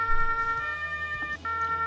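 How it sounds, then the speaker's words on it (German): A wailing emergency-vehicle siren from a vehicle in the Arma 3 video game plays as a steady, loud tone that holds throughout with slight wavering and no talk over it. "Die Sirene funktioniert,"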